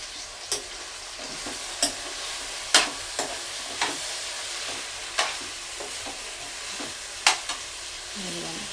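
Okra curry cooks in a pan with a steady low frying hiss, while a spoon scrapes and taps against the pan in sharp irregular strokes every second or so, with no voices.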